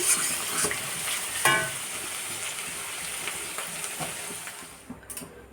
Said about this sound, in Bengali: পেঁয়াজ রসুন দিয়ে কালো জিরো ফোড়ন দিয়ে ভাজাটা বসিয়ে দিয়েছি